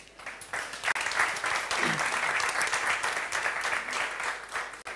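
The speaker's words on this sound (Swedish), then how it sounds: "Ge dem en varm applåd." An audience gives a warm round of applause at a regional labour-market panel event, dense sustained clapping that swells and then tapers off.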